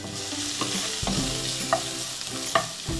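Finely chopped large onions sauté in a pan for a home lunch, giving a steady, close sizzle broken by several distinct spoon knocks and scrapes as they are stirred.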